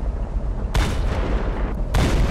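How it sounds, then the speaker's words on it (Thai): Gunshots ring out in Hand Simulator: two loud abrupt blasts about a second apart over a rumbling, noisy background, each leaving a brief ringing tail. "เขายิงแล้วว่ะ"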